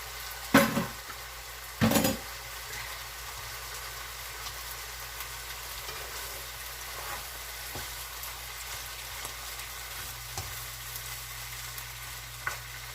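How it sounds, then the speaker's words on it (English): Vegetables for Puerto Rican sancocho sizzle steadily in a big pot, a soft continuous frying hiss broken by a couple of louder clanks of stirring near the start. "saute this loveliness"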